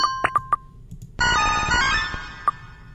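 Victreebel's cry from a Pokémon video game: a few quick electronic pings lead into a bright, raspy synthesized squawk that rings on for over a second, with one more ping near the end.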